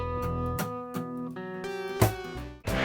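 A full-band pop song plays back from its original digital source, loud and continuous, with drums, bass and vocals-style melody layered densely, a sharp hit near two seconds and a brief dip before the music surges back.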